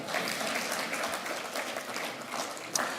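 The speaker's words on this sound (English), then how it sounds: "Clap for the people, please." An audience at a Canada-Nigeria business and investment summit gala claps steadily, a moderately distant, even patter of many hands lasting the full few seconds.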